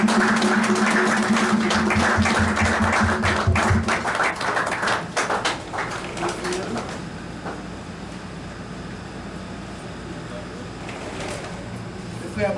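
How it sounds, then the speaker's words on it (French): A church congregation applauds during a Sunday worship service, with a dense patter of clapping that is strong at first and then thins out as voices carry on over it. "Que je vous demande de les applaudir"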